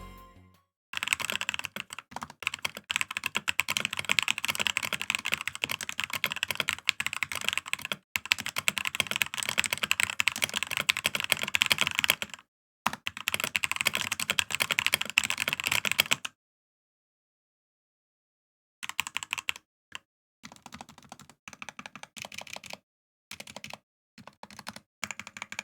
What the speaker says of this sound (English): let me go ahead and show you guys how it sounds after just simply lubing up the key, or not the keycaps, but the switches.